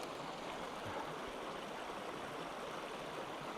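Sinking Creek at Echo Bluff State Park, Missouri, flowing over small cascades, a steady close broadband rush of running water with no voices.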